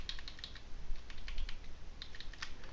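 Keyboard shortcut keys pressed on a computer keyboard while working in Autodesk Maya, a quick run of crisp, close clicks and taps in irregular clusters, with no talking.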